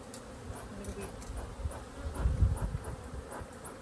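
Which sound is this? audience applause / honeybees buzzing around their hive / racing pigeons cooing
honeybees buzzing around their hive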